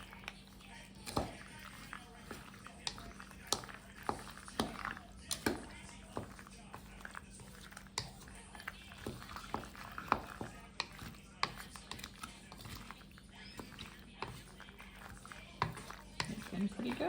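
A bowl of food for a Fourth of July meal in a Ugandan village is mixed by hand, with soft scraping and scattered spoon clicks running throughout, beneath steady nearby conversation.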